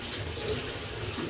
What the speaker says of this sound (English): you just stand under the shower